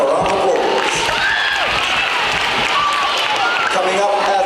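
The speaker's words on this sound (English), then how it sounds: "Give it a round of applause." Applause and crowd noise at a primary school sports assembly, steady and loud through the whole stretch, with children's voices and cheering mixed into the clapping.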